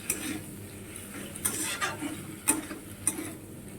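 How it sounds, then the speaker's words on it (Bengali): A utensil stirs and mixes pasta ingredients in a pan, giving soft scraping and several sharp clinks against the metal over a quiet sizzle. "একটু ভালোভাবে মিক্স করে নিচ্ছি।"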